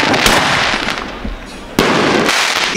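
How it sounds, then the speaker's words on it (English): Fireworks and firecrackers set off at a New Year's celebration in Hawaii, loud crackling pops and sharp bursts close by over a continuous noisy background, with voices faintly mixed in. "Kids are playing with fireworks."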